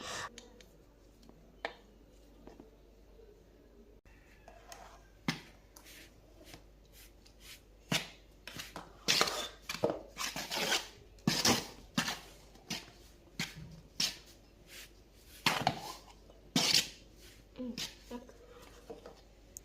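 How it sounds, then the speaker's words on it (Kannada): Rice flour dough for chakli is worked by hand, giving irregular bursts of squishing, slapping and rubbing that grow busier and louder in the second half, close and with no talking. "ಹಿಟ್ಟು ಸ್ಮೂತ್ ಬರೋ ತನಕ ಚೆನ್ನಾಗಿ ಸ್ಮ್ಯಾಶ್ ಮಾಡ್ದು ಅಂದರೆ ಕಲಿಸ್ದು"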